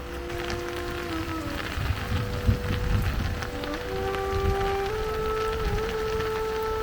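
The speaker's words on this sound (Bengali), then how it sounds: "বৃষ্টির শব্দ টিপটিপ বৃষ্টির শব্দগুলো শুনতে ভালোই লাগতেছে" Light rain patters steadily on a fishing-boat shelter on the Jamuna riverbank, a soft continuous pitter-patter with music playing over it.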